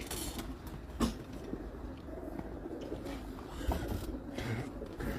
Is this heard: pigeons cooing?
yes